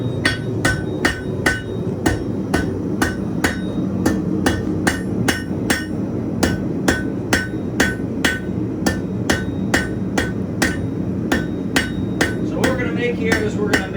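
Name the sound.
hammer forging 1/4 inch square steel stock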